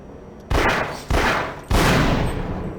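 Automated turret gunfire in the video game Half-Life, three loud broadband bursts in quick succession, each sharp onset trailing off into a sustained roar.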